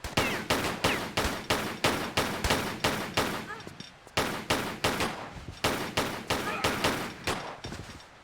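Gunfire in the game Tomb Raider III, a rapid string of sharp, loud shots in two bursts with a short pause between them, close and dominant.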